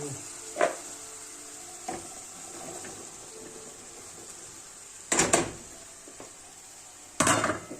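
Chopped peppers are tipped into a pan of zucchini and chickpeas, giving a low sizzle broken by a few sharp clatters of pan and utensil, two louder bursts of pouring and scraping coming late.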